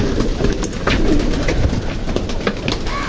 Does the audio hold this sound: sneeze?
no